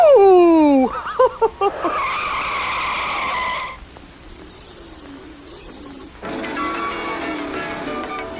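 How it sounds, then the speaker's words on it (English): Cartoon race cars starting a race: a rising, sliding squeal, a few sharp bursts, then a sustained tonal whine and engine-like roars with skidding, loud and close, mixed with cartoon voices and effects. "Luigi, start the race, please."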